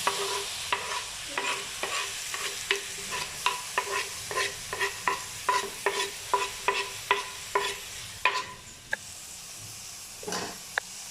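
Onions and tomatoes fry in a pan with a steady sizzle, and a spoon stirs them in regular scraping strokes roughly every half second, close and clear with no talking.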